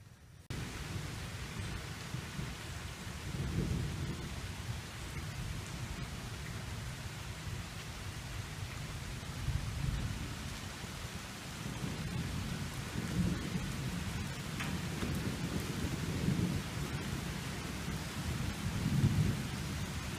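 Summer rain falling steadily on a garden yard, with low rolls of thunder swelling and fading throughout, fairly quiet and continuous with no voices.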